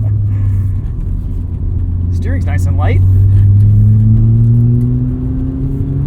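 A 1990 Mazda RX-7 FC with its rotary engine pulled at full throttle, a steady loud drone that climbs gradually in pitch, with someone talking briefly over it.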